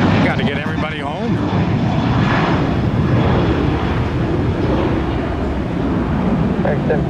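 An airliner takes off from runway 19 right at Tampa on a hot day, its engines giving a loud, steady broadband roar that fills the whole clip, with a brief radio voice near the start.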